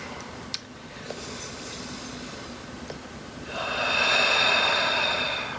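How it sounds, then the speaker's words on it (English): A person takes a slow, deep breath while pressing an acupressure point for a neck headache; a soft, airy inhale swells after a few quiet seconds of faint room noise and carries steadily to the end, with no talking. "One nice deep breath"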